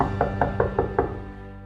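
Knocking on a door as an audiobook sound effect, five evenly spaced raps at a steady rhythm, close and moderately loud, followed by a short fading tail with no voices.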